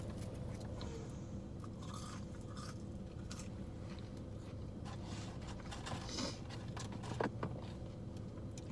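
Close, quiet crunching and chewing of Burger King fries during a mukbang, soft irregular bites and mouth sounds over a faint background hum, with no talking.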